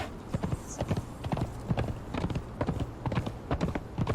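Steady clip-clop of horse hooves from a mount in Conan Exiles on the Isle of Siptah, a continuous fast rhythmic trot of close, clear hoofbeats playing on without break, with little else over it.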